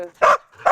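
Dog at an animal shelter giving two sharp barks, one near the start and another near the end, close and loud with a quiet gap between them.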